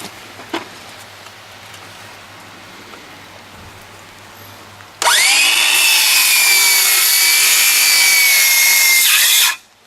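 A power saw cuts two inches into a 3.5-inch wooden deck post using a jig, bursting in loud at mid-clip after a quiet stretch, then holding a steady, high whining grind for about five seconds before stopping abruptly.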